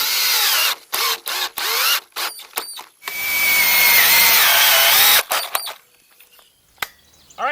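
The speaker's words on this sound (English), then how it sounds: "just put 1 screw in each joint, make sure it's all straight, then put your other screws in" Power drill driving screws into the hoop joints of a Zimmerman high tunnel, loud close whirring in several short stop-start bursts, then one long sustained run that slows as the screw seats, followed by quiet clicks.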